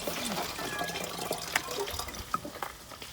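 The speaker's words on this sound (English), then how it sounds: "Beautiful Santa Cruz Harbor water." Santa Cruz Harbor water sloshing and lapping nearby, a steady wet wash with small drips and splashes throughout, fairly quiet with no talk over it.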